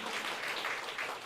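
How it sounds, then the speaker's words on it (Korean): Congregation clapping together during a Sunday church service, a steady wash of hands filling the room for just over a second, fairly quiet and without voices on top. "박수도 한번 쳐주고 굿굿굿 하세요"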